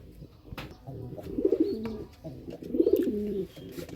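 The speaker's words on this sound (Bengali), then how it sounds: "এগুলো হলো আমার প্রথম কিনা কবুতর।" Silver Serazi pigeons coo in a cage, two rolling low coos close by against a quiet background.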